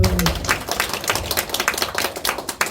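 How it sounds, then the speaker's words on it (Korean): Church congregation clapping in a Friday service, a dense run of quick claps that fills the clip, loud and close, with a low voice briefly at the start. "박수."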